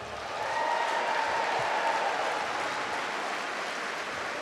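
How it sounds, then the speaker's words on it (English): A large crowd at an evening class of 2019 event bursts into sustained applause, a dense, steady wash of clapping that swells quickly and holds without voices. "give a round of applause for the great class of 2019"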